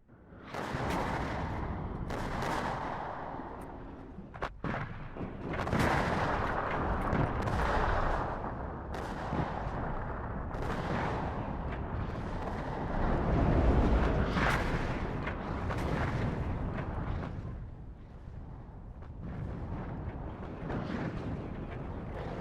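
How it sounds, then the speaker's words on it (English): Continuous artillery fire pounds a town in the wargame WARNO, a dense, loud barrage of overlapping booms and blasts with no pauses, heard alone without voices. "We'll just keep using artillery here to hit the town and get some extra kills."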